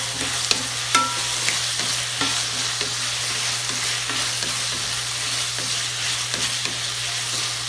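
Peppers fry and hiss steadily in a pan for a tomato-sauce chicken dish, with a spatula scraping and stirring in repeated soft knocks over a constant sizzle and a low steady hum underneath.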